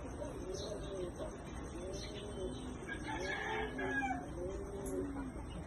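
A Sweater Boston bloodline gamecock rooster crows several times, close by and fairly loud, with the drawn-out calls rising and falling over a steady background hum.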